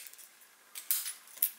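Small metal key jingles and clicks in a cheap gym locker padlock, a few faint light metallic taps followed by two sharper clicks as it opens.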